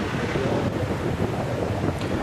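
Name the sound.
high ocean waves at Batu Hiu beach, Pangandaran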